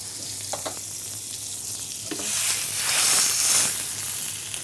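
Butter and oil sizzling in a pan with Kashmiri paprika on a cooking show, a steady hiss that swells louder midway then settles, with light stirring and no voices.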